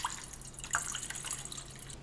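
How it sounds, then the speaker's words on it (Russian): Cooled water poured from a jar of pickling cucumbers into a saucepan: a short, quiet run of trickling and dripping with a couple of brief splashes, heard up close and alone. "Водичка у меня уже остыла в огурцах, и я ее отправляю в кастрюльку."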